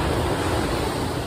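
Ocean surf at Ocean Beach in San Francisco, California, makes a steady, loud broadband wash of breaking waves mixed with wind noise, with no talking.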